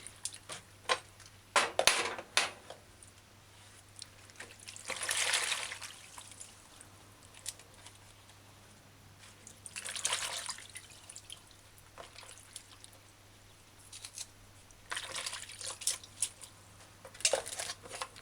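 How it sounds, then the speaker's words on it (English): Leafy vegetables washed by hand in salted water, with bursts of splashing and squishing every few seconds between quiet drips, close up and without talk. "get between the leaves and wash it properly"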